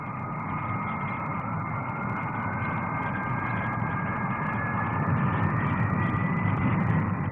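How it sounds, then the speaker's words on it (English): An English Electric P-1 supersonic jet fighter flying at the 1957 Farnborough air display, a loud continuous jet roar with a rising whine that grows slightly louder over several seconds. "The English Electric P-1, a supersonic fighter."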